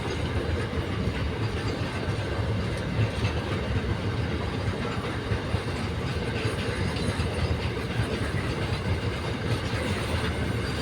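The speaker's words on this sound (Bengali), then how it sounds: "চলো মাল ট্রেন চলে যাচ্ছে" A freight train rolls past close by, a loud continuous rumble with rapid clattering of wheels on the rails, steady throughout with no voices.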